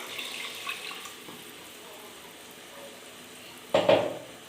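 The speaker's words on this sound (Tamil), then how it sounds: "இப்போ தேவையான அளவு குழம்புக்கு தண்ணி ஊற்றிக்கலாங்க." Water poured into a pot of curry gravy during home cooking, a short splashing burst near the end after quiet kitchen background.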